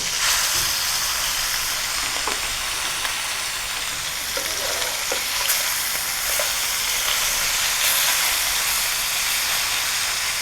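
Fish frying in a pan of oil gives off a loud, continuous sizzle and hiss that holds steady throughout, with a few faint clinks rising above it.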